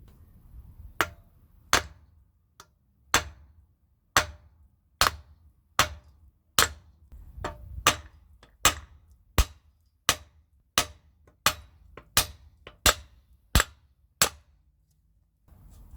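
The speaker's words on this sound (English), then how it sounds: "we give a pounding impact through the nut there" Hammer blows pounding on a rusted, seized nut and bolt on an old trolley, about twenty sharp metallic strikes in a fairly regular rhythm, loud and close with no talking.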